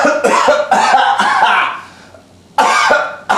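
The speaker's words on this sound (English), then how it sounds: "I'm going to step out of picture to cough." A man coughs off-camera in several loud, harsh bursts close by, with a short lull before one final hacking cough.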